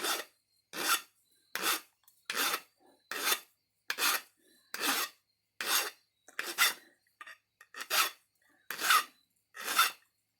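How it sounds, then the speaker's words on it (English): Raw Flint Ridge flint being ground in a dozen evenly spaced rasping strokes, each a short bright scrape followed by a brief pause, close and clear with no talk. "I want to grind it a little bit"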